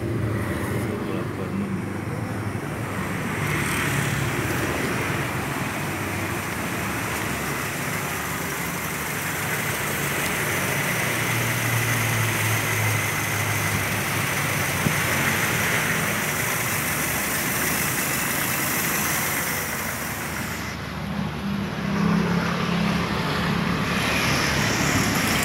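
A 1986 Mercedes-Benz 200E with a 2000 cc engine runs at a steady, loud idle throughout, close by, with a slight shift in tone near the end and a voice talking faintly at times.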